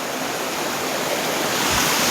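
Steady broadband rush of water from a small waterfall tumbling down rocks, close and continuous with no talk over it.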